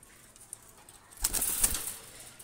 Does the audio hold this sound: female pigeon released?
yes